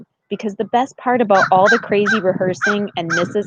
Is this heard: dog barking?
yes